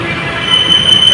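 Hyderabad metro train at Paradise metro station, a steady loud rumble of the carriage with a thin high whine running through it, continuous throughout.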